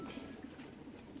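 Tumbler pigeons, a newly bought pair of aerial tumblers, coo in soft low repeated pulses close by, steady and unaccompanied by speech.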